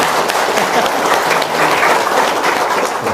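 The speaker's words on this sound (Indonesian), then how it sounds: "Tepuk tangan dong." Brief, loud applause from an audience at an Indonesian religious talk, a close, dense wash of clapping that runs steadily for about three seconds.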